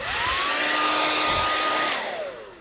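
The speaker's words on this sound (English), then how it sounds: "I use a hairdryer." A hair dryer blows steadily with a loud whooshing roar and a whining motor tone, then begins winding down as it is switched off.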